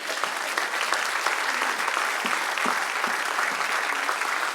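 A church congregation claps enthusiastically during a pastor's sermon, a steady, dense round of applause from many hands filling the hall at an even level throughout, with no speech over it.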